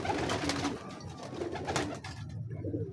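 Old breeder pigeons cooing nearby, a few soft low coos rising and falling over faint background rustle.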